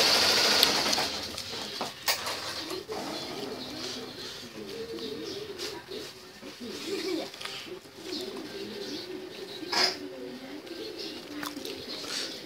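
An embroidery machine stitching a logo onto a shirt with a steady mechanical hum and rhythmic chatter, while pigeons coo in the background.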